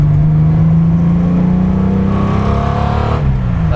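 A classic car's engine revs loud and close as it warms up, holding a steady drone that climbs and then eases near the end, with no voices over it.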